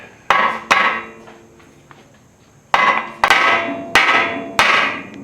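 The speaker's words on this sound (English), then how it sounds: "we're gonna use our trusty hammer" Heavy hammer strikes on the suspension bolts of a 2011 Toyota Highlander during a control arm replacement, two blows, a pause, then four more in a steady rhythm, loud and close with a ringing clank.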